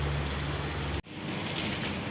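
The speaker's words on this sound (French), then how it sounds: "juste au moment où je sors, il se met à pleuvoir." Rain patters steadily onto a liveaboard sailboat anchored off Cape Verde in the rainy season, a close, continuous wash of drops broken by one brief dropout about halfway through.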